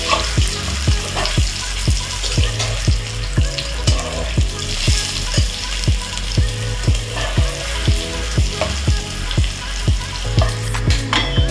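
Potatoes for a mutton curry fry in a pan with a loud, continuous sizzle. Evenly spaced stirring strokes scrape through it about once a second, close and prominent.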